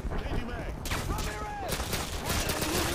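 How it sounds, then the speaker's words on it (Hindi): Pistol fire in Call of Duty Modern Warfare 2: sharp shots cracking in quick bursts amid busy game sounds, with a voice talking faintly underneath. "पिस्टल से मारना पड़ेगा भाई, मेरे पे गन नहीं है"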